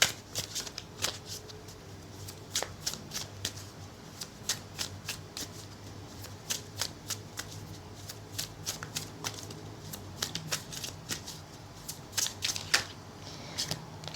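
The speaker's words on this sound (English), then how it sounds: "There was a card that kind of flipped but then went back, so let's just continue shuffling" Tarot cards being shuffled by hand in repeated quick riffles and soft slaps, close and fairly quiet, continuing steadily with brief pauses.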